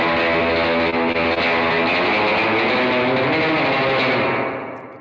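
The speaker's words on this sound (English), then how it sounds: "And then with reverb." Electric guitar played through a reverb effect, a dense sustained wash of chords with long ringing tails that fade out at the end, loud and alone.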